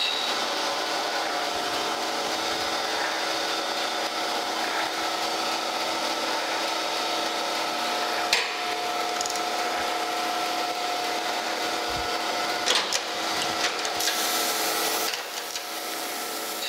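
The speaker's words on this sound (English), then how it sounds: "And I'm gonna probably do some fairly rough grinding on this." Grinder working a rough bandsaw-cut cast iron blank for a Monarch 10EE lathe segment gear, a continuous loud abrasive hiss and whine with a few brief bumps, close and unbroken throughout.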